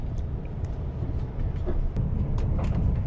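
Interior of a moving Caledonian Sleeper train between Fort William and Glasgow: a low continuous rumble of the carriage with faint clicks and rattles, no speech.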